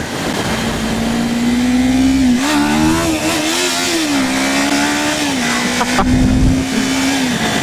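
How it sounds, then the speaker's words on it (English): A Ninja 400 motorcycle pulls hard in first gear, its engine note rising and wavering as it revs, loud and close throughout with no speech. "It picks up the front wheel quite easily in first gear"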